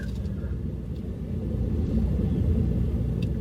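Steady low rumble inside a moving car on the road, a continuous droning hum with no talk, swelling slightly louder partway through.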